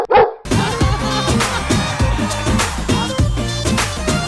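Dogs bark on a televised comedy stage performance, with loud barks repeating in a steady rhythm right after a brief opening sound.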